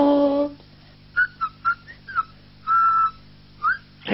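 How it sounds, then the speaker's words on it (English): A person whistles a short, bright tune in separate chirpy notes, one held longer near the end, over a quiet steady hum. "Sorry, I was just whistling while you were gone."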